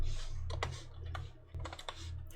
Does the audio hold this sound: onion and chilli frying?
no